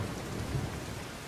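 Heavy monsoon rain in Amreli, Gujarat, roars down in a dense, steady wash, with a low rolling rumble of thunder underneath and no voices.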